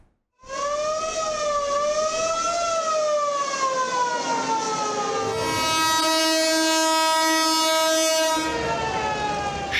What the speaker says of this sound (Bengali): যাত্রীদের ঠাসা বগি আর ডেক ভর্তি মানুষ নিয়ে বাড়ির পানে ছুটছে ট্রেন ও লঞ্চ।